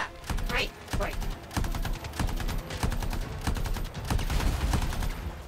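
A weapon firing in the Anthem video game, rapid automatic shots in a sustained, closely spaced rhythm with short gaps, loud and close.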